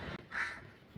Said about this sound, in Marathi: 2 कावळे आले बघा.